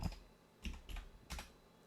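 Keys tapped on a computer keyboard while entering a web address, a few quiet clicks in small clusters spread over a couple of seconds.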